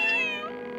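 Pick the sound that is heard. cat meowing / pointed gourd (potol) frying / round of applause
cat meowing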